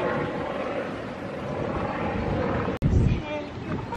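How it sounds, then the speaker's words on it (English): A helicopter flies in near Pearl Harbor, a steady rotor and engine roar that is cut by a sudden break and a thump before it continues, with voices also present. "Helicopter coming in."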